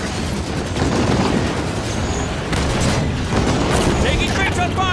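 Halo 5 campaign battle gunfire: dense rolling bursts of weapon fire and booms from a Scorpion tank fight, continuous and loud, with a voice talking over parts of it.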